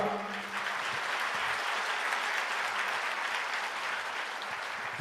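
Church congregation applauds during a sermon, a dense, steady wash of clapping that fills the hall at even loudness from start to finish, with no voice over it.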